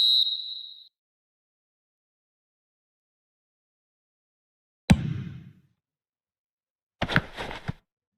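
Referee whistle in the eFootball video game: one short whistle blast at the start, then a thud and a burst of crowd noise after a silence.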